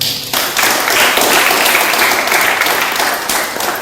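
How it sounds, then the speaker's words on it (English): Thunderous applause from students and staff at a school Onam celebration fills the hall, starting abruptly and holding a loud, dense clatter of many hands before easing slightly at the end. "put our hands together to wish all the students and staff members from the state of Kerala with a thunderous applause"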